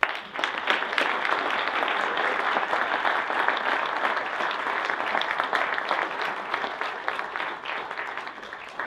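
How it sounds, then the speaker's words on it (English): An audience at a Startup Grind event in Wichita gives a steady round of applause: dense, even clapping from many hands that holds at a constant level for about nine seconds. "Let's give Steve a round of applause."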